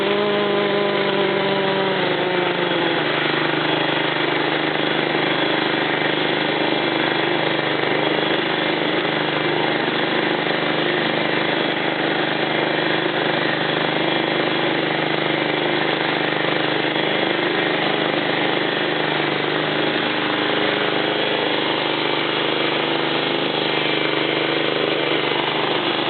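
A John Deere JX85 commercial self-propelled lawnmower engine runs steadily and loudly throughout, a continuous close mechanical drone that stays even from start to finish.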